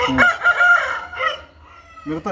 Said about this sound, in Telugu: పుంజు చాలా ఫాస్ట్గా ఉంది ఇది